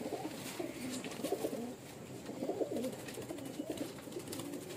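Pigeons give low, rolling coos in several repeated bursts, fairly quiet and close, with no talking over them.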